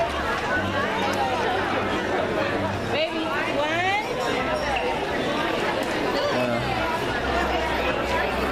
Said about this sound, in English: it is a good crowd here today